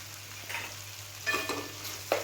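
Butter sizzles in a pan while dhaba-style dal makhani is cooked: a soft, steady frying hiss with a few brief stirring scrapes, close and fairly quiet over a short moment.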